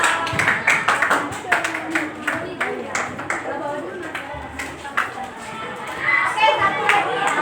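A school class claps for a group, a patter of many hands that swells near the end, mixed with children's chatter and a teacher talking over it.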